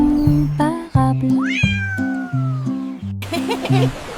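A cat meows repeatedly in long, drawn-out cries with rising and falling pitch, close and clear over a backdrop of tonal music notes, with no talking.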